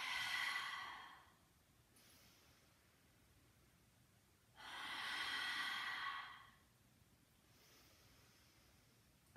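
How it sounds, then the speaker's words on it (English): Two long, heavy breaths are pushed out through the mouth, each a breathy whoosh lasting a couple of seconds, with quiet pauses between them during a guided relaxation exercise. "keep having that nice heavy breath out."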